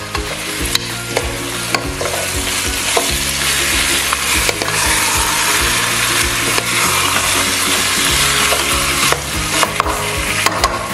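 Native chicken pieces sautéing and being stirred in a hot pan, a steady loud sizzle with repeated scraping and stirring knocks throughout, no talking.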